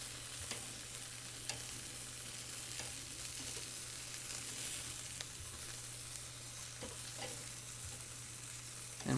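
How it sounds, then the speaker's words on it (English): Buffalo wings sizzle directly over hot coals on a grill, a steady close hiss dotted with small pops and crackles, with no talking. "I like to put the wings directly over the hot coals so that the skin gets just a little bit extra crispy"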